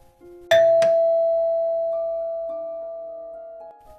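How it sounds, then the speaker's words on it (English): A doorbell rings once with a clear ding-dong chime, its tone lingering and slowly fading in a quiet room. "The doorbell rings again"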